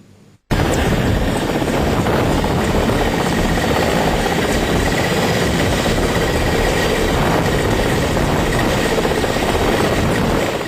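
Indian Air Force helicopter over the mountains of Uttarakhand, heard as a loud, steady, close rotor and engine roar that starts abruptly after a brief quiet moment and continues unbroken.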